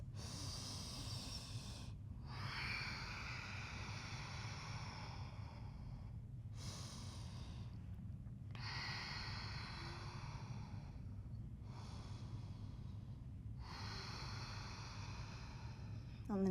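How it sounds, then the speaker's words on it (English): Deep, calm breaths during an Ashtanga yoga flow, each slow inhale and exhale rushing audibly close to the microphone in a steady cycle of several long breaths with brief pauses between them. "Taking 3 big breaths here,"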